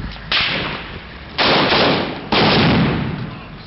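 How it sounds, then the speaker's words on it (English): Gunfire in street fighting as US and Iraqi forces and a Humvee move up a street: three sharp, loud cracks, each with a long echoing decay, spaced about a second apart. "Let me see where the gunfire's come from."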